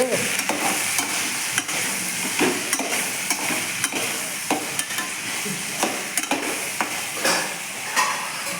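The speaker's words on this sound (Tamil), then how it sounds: "இப்போ இந்த முருங்கைக்காயை போட்டு சும்மா ஒரு கிளறு கிளறி விட்டு" Drumsticks go into a pan with fried brinjal and onion and are stirred, giving a steady sizzle broken by frequent scraping strokes of a spoon against the pan, close and continuous without any talk.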